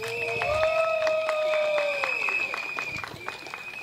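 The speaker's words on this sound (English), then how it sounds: "One more round of applause for Martin" Crowd applause at an outdoor political rally in a stadium, steady clapping with whistles and tonal feedback-like lines running through, fairly continuous over the whole stretch with voices mixed in.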